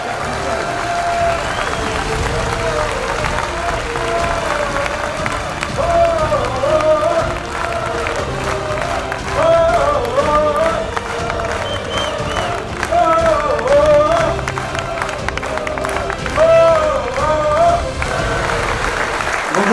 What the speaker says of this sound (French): leur faire un applaudissement debout à tous les bénévoles